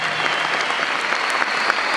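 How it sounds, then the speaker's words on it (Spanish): An audience claps and cheers for two freestyle rappers at a final of El Quinto Escalón, WOS versus Dtoke. The applause is dense, loud and continuous, with crowd noise mixed in. "Primero, un aplauso para estas dos verdaderas bestias."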